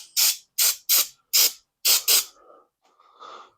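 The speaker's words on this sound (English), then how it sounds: "we're going to clean it with some parts cleaner" Parts cleaner is sprayed onto a disassembled engine connecting rod from a Coleman B200R in six short, sharp aerosol bursts in quick succession, followed by two fainter, softer hisses.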